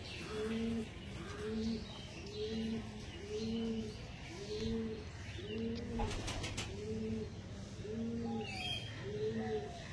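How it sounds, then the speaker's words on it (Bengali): Pigeons of an old-generation tippler line coo nearby in a slow, regular series of about nine rolling coos over a faint background hum. "ওল্ড জেনারেশন লাইনের পায়রা"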